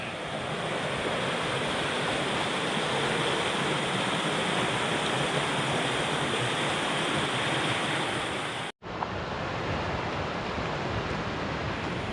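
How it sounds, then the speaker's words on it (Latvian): A small river in Wales running full with lots of flowing water gives a steady, loud, close rushing wash that barely changes, cut by a very brief dropout near the end. "Upītē ūdens diezgan daudz ir."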